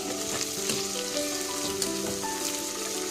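Onions frying in a pan for paneer and sweet corn pulao give a steady, dense sizzle with occasional stirring scrapes, close and continuous with no talking.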